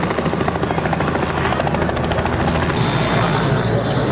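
Helicopter at an airstrip during a roll drag-racing event, its loud rotor chop and turbine whine steady and close throughout, with a shift in tone near the end.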